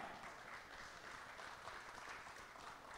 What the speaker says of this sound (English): Representing Poland, big applause to Mrs. Emilia Babska.